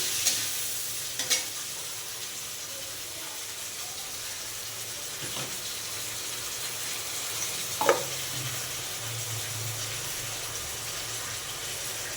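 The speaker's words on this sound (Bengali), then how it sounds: "এবার মশলাটা দিয়ে আস্তে করে কষিয়ে নেবো" Ground spice paste stir-fried in a pan, a steady close sizzle under a few spatula scrapes and taps spaced seconds apart, with no voices.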